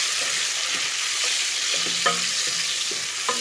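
Steady sizzling of tomatoes and garlic frying in a pan, with occasional soft stirring scrapes and clinks, close and continuous, no talking.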